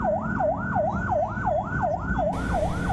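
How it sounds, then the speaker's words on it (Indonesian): An ambulance siren, on a vehicle carrying a patient, wails, rising and falling in a steady repeating cycle, loud and close, over a low rumble of traffic. "Mobil ambulans yang membawa pasien dan telah menghidupkan sirine"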